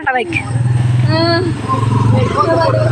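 Honda motorcycle passing at night, a loud close engine drone with a steady low pulse running under people talking nearby.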